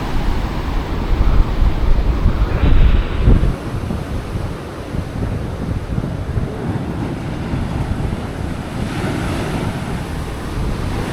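Sea waves breaking against a breakwater under an overcast sky, with steady wind rumbling across the microphone; a heavier surge near the start, then continuous washing surf without any talk.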